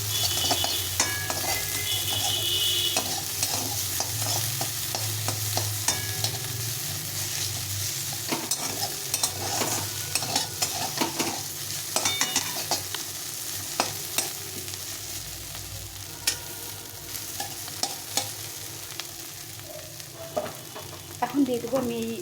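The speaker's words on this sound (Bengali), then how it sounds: "একটু গুঁড়ো লঙ্কা দিয়ে এটাকে ভালো করে ভেজে নিতে হবে" Spices frying with chili powder in a pan for a chickpea chaat, a steady close sizzle broken by frequent scraping stir strokes and light utensil clicks throughout.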